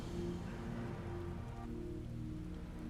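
Rain falls in the video game Final Fantasy 14, a steady soft patter of drops with a low droning tone underneath and no voices.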